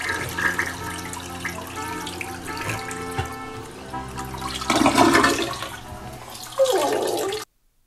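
A toilet flushes loudly up close, with a rushing swirl of water that surges in two strong bursts, then cuts off abruptly.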